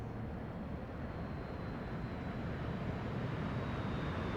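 The piston engine of a Spitfire Mk IX in the flight game DCS drones as a steady, dense roar under an open throttle, even in level and unbroken throughout, with no talking.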